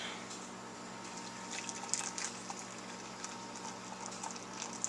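Boiling water pours steadily into homebrew wine with Sparkolloid, a soft, bubbling patter, close and fairly quiet, running continuously with no voices.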